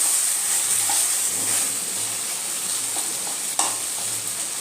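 Chicken sautéing in a pan over steady sizzling, a continuous bright hiss with faint clicks and one sharp utensil tap near the end; no talking.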